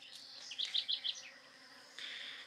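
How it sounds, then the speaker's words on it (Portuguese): Honeybees (Apis mellifera) buzz around a flowering yellow jabuticaba fruit tree, faint and close, with a quick run of four short buzzing pulses followed by a softer, steady hum. "Tem muitas abelhas aqui, ó, fazendo a polinização das flores dela. Abelhas Apis mellifera."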